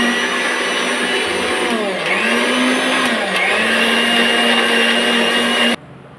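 Mixer blender spinning kiwi fruit with no sugar or milk added, a loud steady whirring whine that dips briefly twice in pitch and then cuts off abruptly near the end, with no talk over it.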